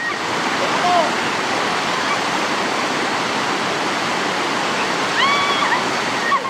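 A river in Sentul, Bogor, runs over rocky contours in a steady, loud rushing wash, with faint bird chirps near the end.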